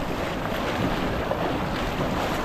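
Loud, continuous roar of water released from a dam during heavy rain fills the scene, a dense broadband wash with wind buffeting the microphone and no clear breaks.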